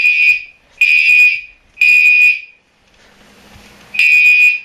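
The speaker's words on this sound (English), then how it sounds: "The strobes and the horns are in sync down here." Fire alarm horns synchronized with strobes, sounding in a demonstration of a Simplex system: loud, piercing buzzing blasts in a repeating on-off pattern, four bursts with a quieter gap before the last.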